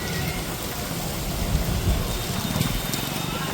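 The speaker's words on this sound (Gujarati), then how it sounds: "વરસાદ જોવો તમે." Heavy rain falling in Surat city during a bike ride, a dense, steady wash of drops drumming close around, with faint traffic underneath and no talk.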